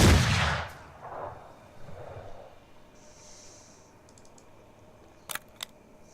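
A gunshot fires in the video game Mordheim: City of the Damned, one sharp loud blast at the start that fades quickly, followed by quieter game effects and two small clicks later on.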